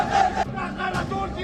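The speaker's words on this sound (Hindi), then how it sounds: "भीड़ ने गुस्ताखे नबी की एक ही सजा, सिर तन से जुदा के नारे लगाते हुए टी राजा की गिरफ्तारी की मांग की।" A protest crowd in Hyderabad chants slogans in short, loud, rough bursts of massed voices, outdoors and close, with no single speaker standing out.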